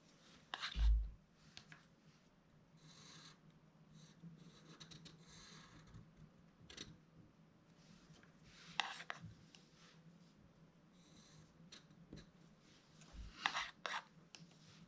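A bamboo pen loaded with India ink scratches across paper in short irregular strokes, faint and close, with soft rubbing and a few sharper taps between quiet pauses.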